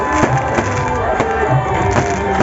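Fireworks go off at a PTI political rally in Dharampura, Lahore. Sharp bangs and crackles repeat over a loud, dense wash of crowd noise, close and continuous.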